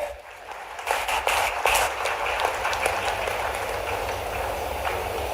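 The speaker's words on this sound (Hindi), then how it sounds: "तालियां बजती रहें।" A large crowd claps at a Rani Durgavati University convocation ceremony held with President Murmu present, producing a steady, continuous wash of applause that swells early and then holds at an even level.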